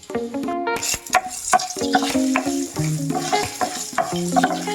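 Spices crackle and sizzle in hot oil for tempering as a spoon stirs and scrapes the pan in quick, irregular strokes, with no talking.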